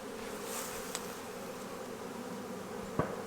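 Honey bees drone continuously from an open hive during a brood inspection, a dense, even buzz close by, with a couple of brief knocks and no voices.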